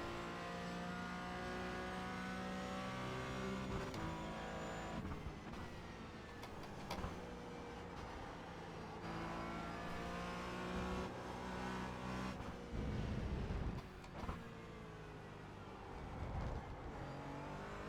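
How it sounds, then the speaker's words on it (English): A race car laps the Interlagos circuit, its engine revving hard through repeated upshifts and downshifts with lifts and accelerations, heard steadily from the car for the whole stretch with no talking. "The way this car's getting around this track."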